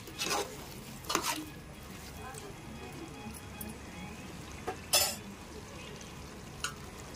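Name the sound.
chopped tomatoes added and cooking in chicken curry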